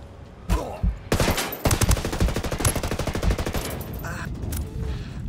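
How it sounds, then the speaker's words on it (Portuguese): Rapid automatic gunfire from an online shooter video game, with a few sharp shots followed by a long sustained burst of fast, evenly spaced rounds, loud and close. "ele atirando em mim"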